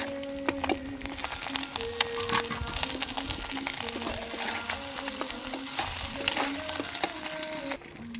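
Pieces of silver carp fry steadily in hot oil, a dense continuous sizzle with occasional stirring scrapes, close and moderately loud, with no voices.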